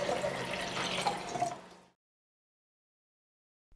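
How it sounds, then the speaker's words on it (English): Cold water pours into a big beaker in a steady, close splashing rush that fades out after about two seconds, followed by silence. "I got myself a big beaker and filled it with a lot of cold water"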